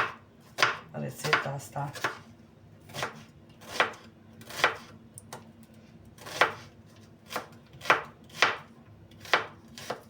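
A knife chops finely on a cutting board while vegetables are prepared for a caraway soup with eggs, giving sharp, evenly spaced knocks close up, with a brief spoken phrase near the end.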